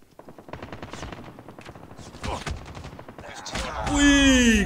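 Call of Duty Mobile gunfire: rapid bursts of automatic weapon fire crackle loudly in quick rhythmic volleys, ending in a rising electronic whine, with a player's voice talking over the action.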